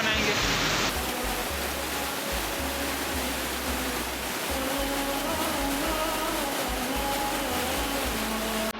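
An icy meltwater stream from melting snow in the mountains rushes with a loud, steady broadband roar, close and continuous, with a voice speaking faintly underneath.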